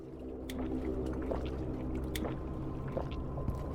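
A character drinks clean water in the video game Forever Skies, with soft wet squishy gulps and splashes over a low steady hum, with a few sharp clicks along the way.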